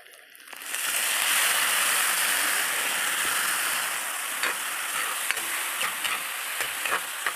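Pancit noodles with soy sauce being stir-fried, a loud steady sizzle that rises after a brief quiet start and continues throughout, with scattered clicks and scrapes of the utensil against the pan.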